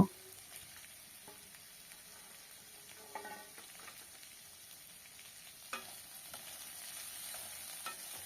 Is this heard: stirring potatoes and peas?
yes